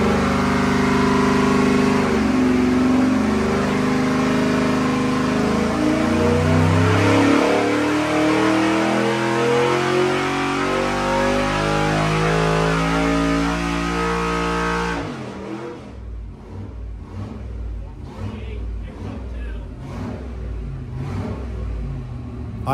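A 5.3 V8 on an engine dyno at full throttle, a loud rising roar sweeping up in revs for about fifteen seconds, then dropping off to a rough lower idle.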